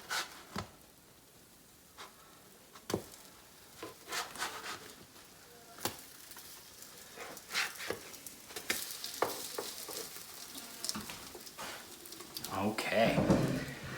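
Several slices of French toast fry in a pan with a soft, steady sizzle, broken by scattered clicks and taps of utensils, with a person talking nearby.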